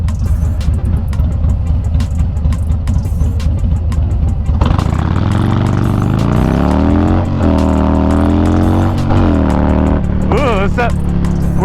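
A 2020 Harley-Davidson Sport Glide 107 with stage 2 upgrades pulls away from takeoff, the engine note climbing through revs, dropping at a gear change and rising again, loud and close, with wind rush in the background.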